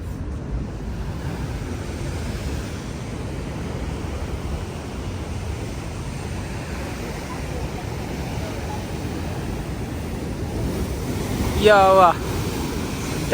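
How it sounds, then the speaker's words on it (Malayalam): Strong sea waves break against the rocks below Bekal Fort on the Kerala coast, a continuous roaring wash of surf mixed with wind buffeting the microphone, and a brief bird call near the end. "നല്ല ശക്തിയിൽ തിരമാല വരണം എന്നിട്ട് ഈ ഒരു പാറയൊക്കെ ഒന്ന് അടിക്കും"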